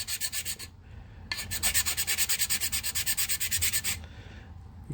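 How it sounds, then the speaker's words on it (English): A 100 grit sanding T-bar run flat across hardened ResinCrete filler, giving rapid rhythmic rasping strokes in two bursts with a brief pause between, loud and close with no talk. "I'm going to start with a sanding T-bar. It's 100 grit, and I'm just going to run it across here flat"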